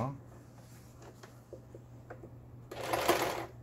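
An Elna 318 home sewing machine running in a short burst of stitching near the end, after faint clicks and a steady low hum, with a person talking throughout.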